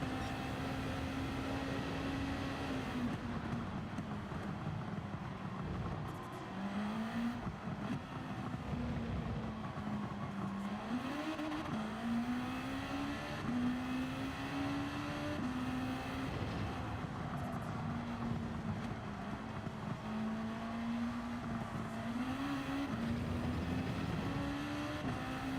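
A race car in a racing video game holds a steady, droning engine note whose pitch dips and climbs as it slows and speeds up, loud and continuous throughout.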